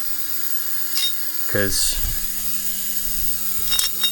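Ratchet clicking in a short burst while a reed cage block is being unscrewed from a Yamaha TZR250 two-stroke engine, close and crisp over a steady background hum, with a brief spoken word.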